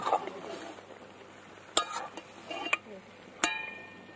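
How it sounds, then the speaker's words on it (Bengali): Bean-leaf paturi being turned over in a pan, a low sizzle with soft scraping strokes punctuated by three sharp, quiet clicks of a utensil against the pan. "এরকম করে উল্টে পাল্টে দেবো।"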